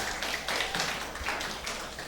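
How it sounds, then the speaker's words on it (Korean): Steady, soft applause fills a church hall during an Easter Sunday worship service, a dense patter of many hands clapping at once that holds fairly even for about two seconds without speech. "크게 박수 한번 해주시죠"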